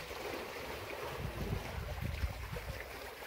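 A sailing yacht cruising near the Exumas, with steady wind buffeting the microphone over the wash of water along the hull and a few soft low thumps, close and continuous with no talking.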